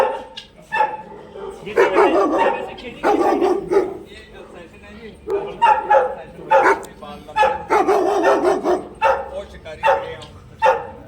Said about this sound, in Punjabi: ਆਹ ਦੇਖੋ ਕੁੱਤੇ